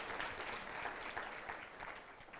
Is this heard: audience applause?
yes